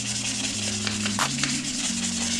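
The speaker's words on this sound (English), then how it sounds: "you're just gonna wanna like scuff it up a little bit" Car exhaust headers on a 7th-generation Nissan Maxima being scuffed by hand before ceramic coating, a steady close abrasive rubbing that runs throughout with faint tonal hum underneath.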